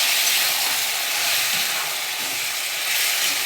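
Chicken and potato curry sizzles and hisses steadily in an oily pan as the meat is fried down, a continuous close frying hiss with no talking.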